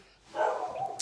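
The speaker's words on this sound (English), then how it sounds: "Sorry about the dogs." Dogs barking indoors in a home, a short burst of one or two barks at moderate distance, fairly faint, with no talk over it.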